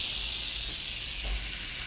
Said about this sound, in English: You can already see the steam coming through.